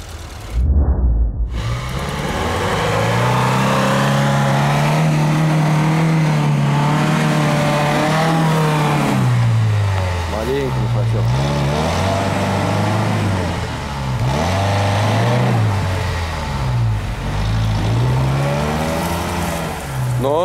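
Suzuki Vitara driving off-road, its engine revving and droning steadily, pitch rising and dipping repeatedly as the throttle changes, loud and close throughout.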